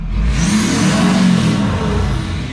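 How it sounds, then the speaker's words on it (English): A Ford F550 diesel truck fitted with a new 5-inch exhaust revs up close by, a loud, deep throaty roar with a rising whine, held steady for a couple of seconds without talk. "Give it a little rev."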